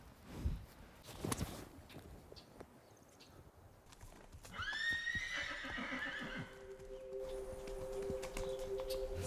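A horse whinnies loudly mid-clip on an open rangeland used for federal grazing, its call rising and falling, with soft hoof clip-clops and scattered footsteps before it and a faint steady tone lingering after.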